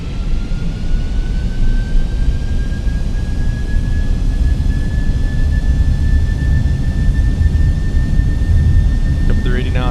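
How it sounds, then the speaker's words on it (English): Boeing 747 jet engines roar at takeoff power in a flight simulator: a steady, loud broadband rumble with a rising whine held throughout, continuous and close. "engines are already spooled up at 50 here as we make the turn"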